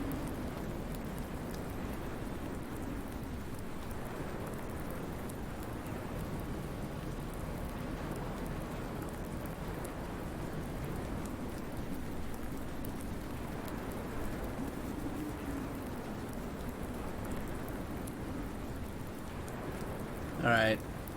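Steady rainfall in the farming game Farming Simulator 19, a constant soft hiss of drops on surfaces lasting throughout, with a brief sharper sound at the very end.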